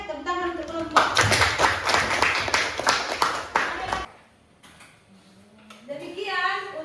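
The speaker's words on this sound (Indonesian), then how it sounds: "Oke, tepuk tangan untuk kelompok." A classroom claps for a group of students, a dense burst of clapping lasting about three seconds, with talking just before and after it.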